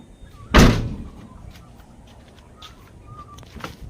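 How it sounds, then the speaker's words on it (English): A single solid thump of a car door shutting nearby during window tinting, followed by quiet ambience with faint bird chirps. "Close the door."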